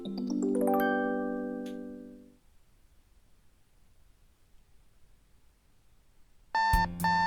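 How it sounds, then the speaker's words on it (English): An alarm clock in the video game Doki Doki Salvation starts with a bright, ringing electronic chime that fades into near silence, then cuts back in with a loud, sharp tonal beep at the end. "I'm going to sluggishly move my arm over to shut my alarm off"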